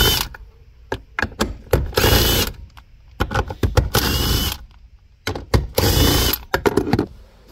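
Power tool driving out 10mm bolts from the center console of a 2015 Mitsubishi Outlander: loud whirring bursts about a second long, alternating with sharp ratcheting clicks and taps, close up with no talking.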